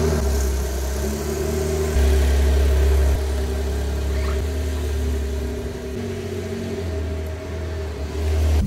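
A car engine hums steadily while driving, a loud low drone with shifting tones as the load changes, close and continuous with no talk.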